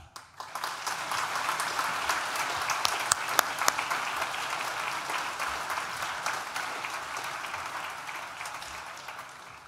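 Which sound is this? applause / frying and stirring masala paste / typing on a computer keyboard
applause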